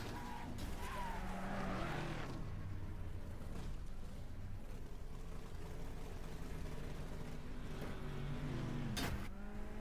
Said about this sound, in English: All that ruckus you heard was me demolishing Daddy's car